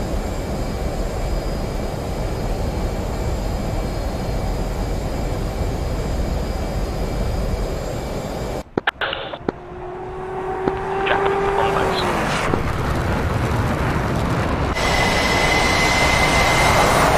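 A fighter jet's engines roar steadily at full power on an aircraft carrier deck in the DCS World flight game, then drop out briefly before a loud rising whoosh and tonal whine as the jet launches.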